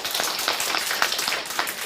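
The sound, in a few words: audience clapping for a participant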